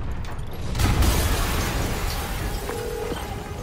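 A muffled explosion booms about a second in, then fades into a rumbling, debris-filled tail in the Spider-Man video game, fairly loud with no voices over it.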